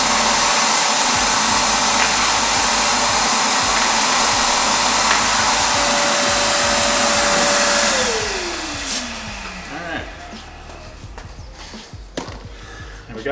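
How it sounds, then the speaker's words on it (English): A vacuum cleaner runs loud and steady over a garage floor being prepped for coating, then switches off, its motor whine sliding downward as it spins to a stop before quieter handling noises follow. "We got that all vacuumed out."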